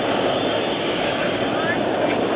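A propeller airplane lands on the runway at the Greenwood Lake airshow, its engine giving a steady, broad drone with no break. A voice talks over it.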